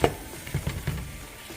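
Rice with chicken is mixed in a hot pan, with a brief close scrape and a few soft stirring knocks over a low sizzle.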